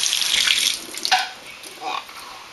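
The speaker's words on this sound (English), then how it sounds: "Set that in the sink. Now you can rinse them off." Beans rinsed under a running tap in a kitchen sink, a steady close splashing hiss of water that swells and dips as the food is moved under the stream.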